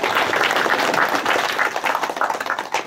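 Audience applause at a Korean memorial lecture event in Andong after a deputy mayor's introduction, dense steady clapping filling the whole stretch, fairly loud and close, with no talk over it.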